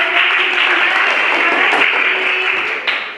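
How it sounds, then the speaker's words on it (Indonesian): A classroom group claps steadily for the flower group of pupils in a dense, even burst of applause that holds at a fairly loud level for a few seconds. "Tepuk tangan untuk kelompok bunga."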